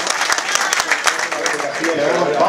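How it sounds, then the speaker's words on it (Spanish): Crowd applause honoring junior category riders at a cyclocross race in Burgos, a brisk outdoor patter of clapping with scattered sharper claps over a murmuring crowd. "el aplauso y los honores para estos jóvenes de la categoría junior"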